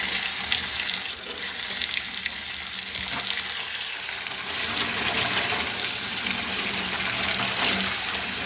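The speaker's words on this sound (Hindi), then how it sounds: "ऊपर से आप ठंडा कोल्ड वाटर इसका टेम्परेचर डाउन हो जाए" Cold water pours and splashes steadily into a pot of peas, a continuous rushing wash that swells a little louder partway through.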